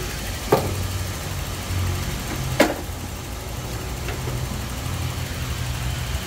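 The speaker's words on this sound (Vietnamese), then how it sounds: "Máy nổ êm." A 2004 Toyota Zace GL idles with a steady low engine hum, broken by two sharp clicks or knocks, heard close by with no speech.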